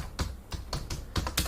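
Keys clatter on a computer keyboard in several quick bursts of clicks separated by short pauses, close and fairly crisp with no speech.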